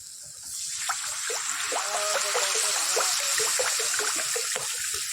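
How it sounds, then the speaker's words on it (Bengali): Water pours steadily into a pan of simmering fish curry in a home kitchen: a continuous splashing gush that starts after a brief quiet moment and runs evenly throughout. "এবার জল দিয়ে দিই"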